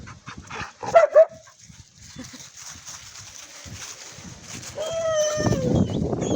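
A small short-haired dog barks outdoors, giving two sharp, loud yips near the start, followed by quieter background activity and a rising whine or squeal toward the end, with a person speaking nearby.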